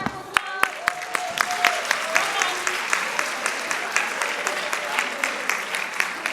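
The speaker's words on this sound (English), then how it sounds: "Can we get a round of applause?" Audience applause in a room, steady dense clapping with sharper individual claps standing out throughout, loud and continuous with no gaps.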